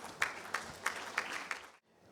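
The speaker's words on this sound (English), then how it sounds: "Let's give him a huge round of applause as we welcome him towards the dais." At an SME manufacturing summit's inaugural session in Mumbai, a thin audience gives sparse applause: about five distinct, evenly spaced claps that ring out briefly, then fall silent.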